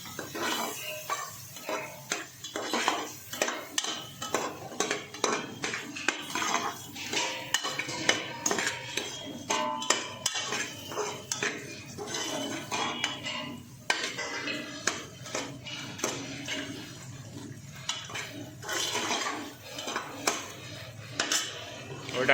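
Vegetables and spices being stirred together in a pan for a potato, tomato and brinjal sabji, with a spoon steadily scraping and clinking against the metal in busy, continuous bursts close by.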